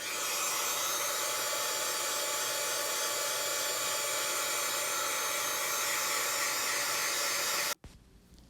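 A heat tool runs steadily and loudly for about eight seconds, setting white embossing powder on a stamped image for a card, then cuts off abruptly, leaving quiet room tone.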